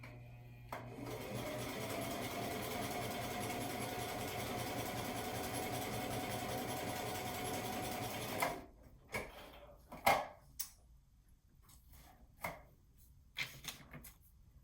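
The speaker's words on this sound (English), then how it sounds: "So I have a beginner sewing machine." A beginner sewing machine whirs steadily and close for about eight seconds, then stops, followed by scattered clicks and clunks.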